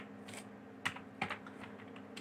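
Code being typed on a computer keyboard, a few soft, sparse key clicks with two sharper taps standing out, close but quiet over a faint steady room hum, no voices.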